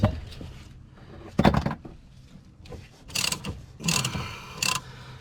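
Grips are tightened on a replacement track rod on the near-side steering of an Omega Elite motorhome. Several close metallic ratcheting and clunking bursts are separated by quieter scraping, with no talking.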